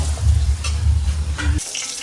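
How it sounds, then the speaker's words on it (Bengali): Potatoes fry in a pan for a Bengali Janmashtami home puja meal, giving a steady close sizzle with stirring that runs for most of the moment and then cuts off abruptly near the end. "এখানে হচ্ছে আলু ভাজা চলছে"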